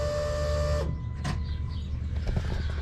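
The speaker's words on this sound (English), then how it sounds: "That's the sound of a good fuel pump." An electric fuel pump from a truck, held up by the gas tank, gives a steady high whine for under a second and then cuts off, leaving faint background noise.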